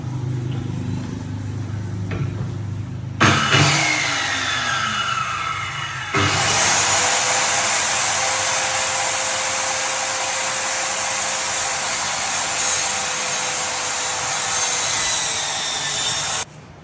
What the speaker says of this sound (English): then we're going to start cutting the plywood